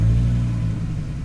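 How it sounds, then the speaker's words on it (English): A Dodge Viper engine fires up close by, a loud deep rumbling idle with low throbbing pulses that holds steady through the brief moment. "and then start the engine"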